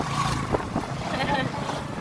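A boat engine drones steadily under rushing wind and water noise, with people talking over it.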